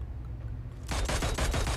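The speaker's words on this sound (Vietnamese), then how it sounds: "thanh niên bạn kia bắn nóc" A rapid burst of gunfire erupts from a rooftop in PUBG Mobile, loud repeated shots in fast succession after a quieter opening stretch.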